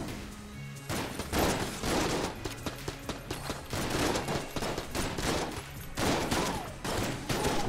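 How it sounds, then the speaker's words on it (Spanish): A shotgun fires repeatedly in Enter the Gungeon, with loud, rapid blasts and explosive hits that come in dense bursts, mixed with other gunfire effects and no talking over them. "Voy a probar la escopeta esta."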